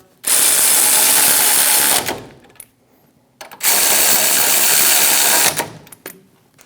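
Impact wrench or power tool snugging caliper bracket bolts on a 2001-2006 Chevrolet Silverado 2500 HD front brake, two loud sustained bursts of whirring with a short quiet pause between them, no talking.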